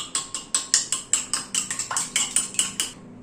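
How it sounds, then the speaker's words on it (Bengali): Fork or whisk beating eggs seasoned with salt, pepper and chili flakes in a bowl, a quick steady series of about a dozen sharp clinking strokes, close and alone, stopping near the end. "ডিমটাকে খুব ভালো করে ফেটিয়ে নিতে হবে।"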